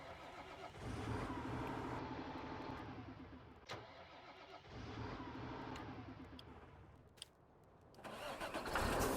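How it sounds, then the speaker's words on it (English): A truck engine in Farming Simulator 19 cranks and starts twice, settling into a steady idle each time, with a brief drop before revving back up, heard clearly with no talk. "that is a nice engine sound"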